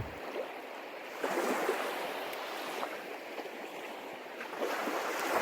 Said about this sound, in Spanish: El sonido del mar era una canción familiar que lo envolvía